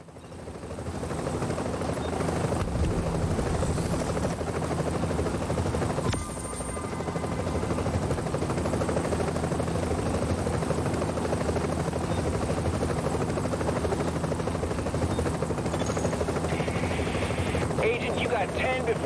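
Helicopter in a survival video game, rotor drone steady and loud throughout with a brief dip in level, and a voice talking over it at points.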